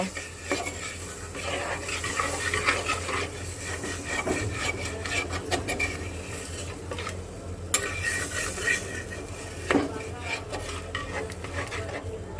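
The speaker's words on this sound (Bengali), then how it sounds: "মশলাটাকে সুন্দর করে একটু কষিয়ে নিই" Spice masala cooking down with added water in a pan for a magur fish and potato curry, a spatula stirring and scraping steadily throughout, with occasional sharper knocks against the pan.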